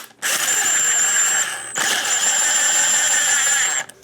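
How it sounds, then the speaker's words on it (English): A cordless drill snugs up the sump gasket bolts on an FC540V engine, two loud whining bursts with a high squeal, separated by a short pause and ending abruptly. "So I'm just going to snug these up using my drill."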